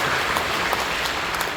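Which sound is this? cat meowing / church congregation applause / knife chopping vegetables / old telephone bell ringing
church congregation applause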